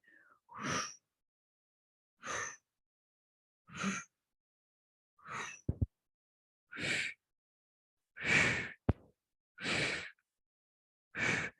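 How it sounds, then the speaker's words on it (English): Forceful breath exhalations during a gentle yoga core exercise, about eight separate breathy bursts spaced evenly roughly every one and a half seconds, close and alone, with a couple of faint clicks between them. "Exhale on each side."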